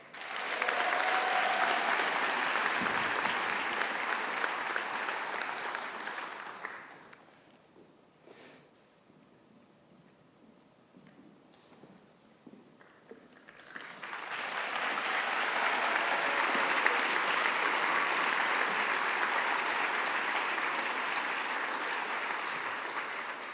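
An audience at a medical school white coat ceremony claps loudly and continuously, fades to near silence for several seconds, then swells into a second sustained round of applause.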